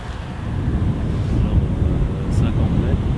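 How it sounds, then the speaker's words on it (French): Strong wind high up around a flying drone buffets the microphone as a loud, continuous low roar with no let-up. "Le vent il est fort en haut."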